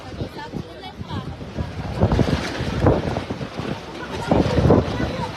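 Strong gusts of wind in Oroquieta City roar and buffet the microphone in rising and falling surges, loud and close throughout.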